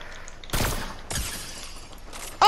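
Fortnite gunfire in a match: two separate short broadband bursts, each a loud crack followed by a brief decaying tail, with a sharper sound cutting in at the very end over a quiet game background.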